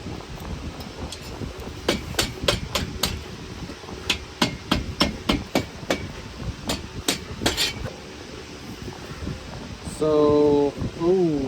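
A hammer taps on parts of a VW Beetle engine during a teardown: sharp metallic knocks, single and in quick clusters, close and loud, with a short buzzing mechanical burst near the end.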